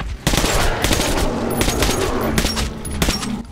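Shotgun fire in Metro Last Light Redux, a dense, loud volley of blasts filling the whole stretch with continuous booming reports and no pause between shots.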